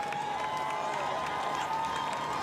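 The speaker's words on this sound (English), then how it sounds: "he gets the biggest cheer of them all" A crowd at a Formula E podium ceremony in London cheers at a distance, a steady, faint wash of applause and shouts running throughout.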